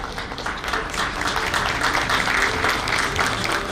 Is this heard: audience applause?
yes